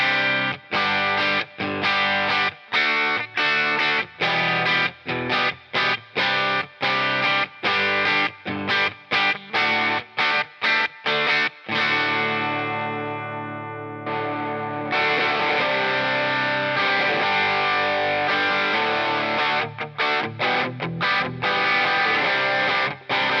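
Electric guitar through a Quilter Toneblock 202 amp with a Tube Screamer overdrive pedal and no wet effects, loud, distorted and continuous, with sharp rhythmic chord stabs, a sustained ringing passage in the middle, then dense strumming again.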